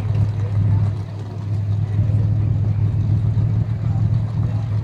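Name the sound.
modified class race cars racing on a dirt track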